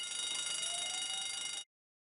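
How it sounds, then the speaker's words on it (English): A site fire alarm rings as a continuous, bright electronic tone with dense high harmonics, held steadily for about one and a half seconds before cutting off abruptly into silence. "The fire alarm sounds like this."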